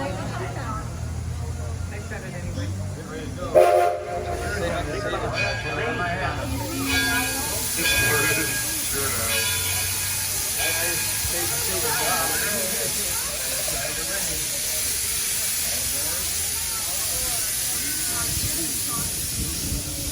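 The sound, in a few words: Edison train ride departing toward Firestone Station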